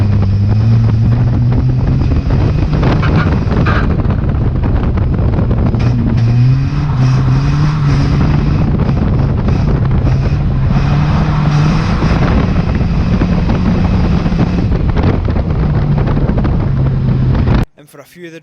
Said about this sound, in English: my dad tries his best to get round the track as fast as possible while struggling with the grip on this wet track